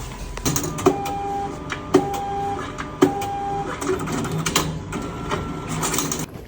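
A passbook printer at a Japanese post office updates a passbook with rapid buzzing print passes and periodic mechanical clunks as the book feeds through, all close and steady.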